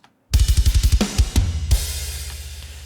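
Programmed metal drums play a fast, even run of tight, heavy hits, with two toms and a kick leading into a loud crash-laden blast that rings out and decays, all close and loud.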